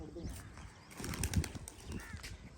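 Pigeons flap their wings in flight, a soft fluttering rush of wingbeats that swells in the middle, faint and close, with quiet voices in the background.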